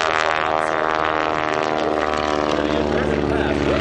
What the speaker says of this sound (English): Whoa, and that engine's saying, okay, John, that's it.